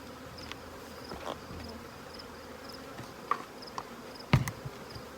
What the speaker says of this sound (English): So this is a very well populated hive.